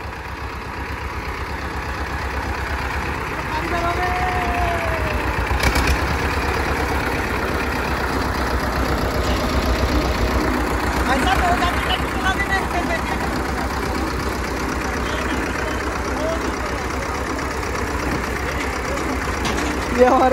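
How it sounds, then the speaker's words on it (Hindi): A tractor engine at a brick kiln idles and chugs steadily throughout, a continuous low rumble close by with faint background noise. "ये हमारे समीर भाई ट्रैक्टर सीख चुके हैं"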